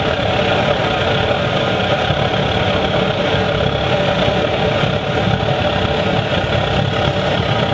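A homemade waste vegetable oil burner roars with a steady, dense, unbroken drone, loud and close, with a deep didgeridoo-like throb running through the whole stretch.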